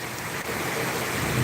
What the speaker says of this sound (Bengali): আপনারা দেখতে পারা যে কিলা বৃষ্টি ওর, মুসলধারে বৃষ্টি ওর।